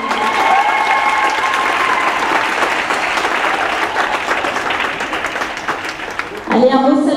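Gala audience applauding performers with sustained, dense clapping for about six and a half seconds, then a voice cuts in over the tail end as the applause continues.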